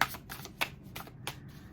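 Tarot cards are shuffled by hand in quick rhythmic riffling bursts, close and fairly quiet, with no speech over them.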